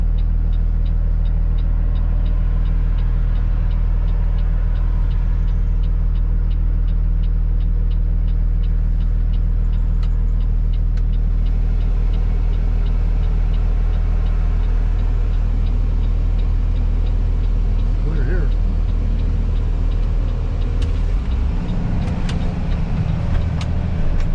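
A Peterbilt flatbed truck idles with a steady, loud low diesel rumble that holds for the whole stretch, then shifts in tone near the end as the engine revs a little.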